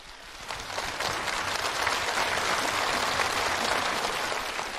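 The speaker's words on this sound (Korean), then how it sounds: "우리 니순홍 배우 동지의 아내에게 진정이 담긴 박수를 보내줍시다." A studio audience at an International Women's Day broadcast program applauds an actor's wife, the clapping swelling quickly into a sustained, dense, even roar of hands that holds steady.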